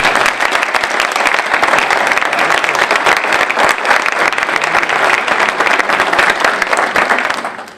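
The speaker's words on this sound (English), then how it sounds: "If we could give them a round of applause." Crowd at a citizen fire academy graduation applauds on-duty firefighters, loud close clapping that holds steady for several seconds before fading out at the end.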